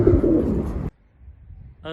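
A pigeon coos in a low, close, rumbling burst for nearly a second, followed by quiet, with a brief higher call at the end.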